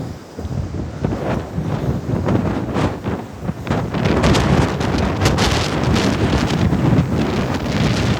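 Typhoon Maysak winds at a beach buffet the microphone in heavy, uneven thumps and rumbles, with surf roaring faintly underneath.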